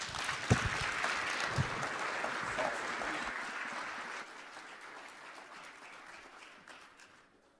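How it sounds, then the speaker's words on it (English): An audience at a union heroes-of-the-year awards ceremony applauds in a dense, sustained wash of clapping that gradually thins and fades out. "How about another round of applause?"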